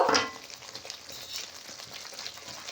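Water poured into masala frying with sour yogurt in a pan: a brief loud splash and hiss at the start, then a steady soft sizzle and bubbling, with no talk.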